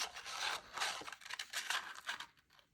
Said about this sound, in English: I'm going to cut out the reindeer from